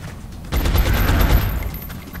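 Gunfire aimed at a zombie in the strategy game XCOM: a dense, loud burst of rapid shots starts abruptly and rattles on steadily for over a second and a half, with no voices.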